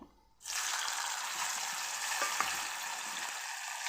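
Chopped tomato dropped into hot oil with cumin and mustard seeds, sizzling suddenly and then frying steadily at moderate volume, with faint stirring clicks and small pops.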